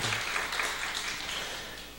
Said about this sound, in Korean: 큰 박수 한번 해주시기를 바랍니다